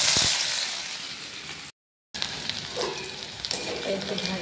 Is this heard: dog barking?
no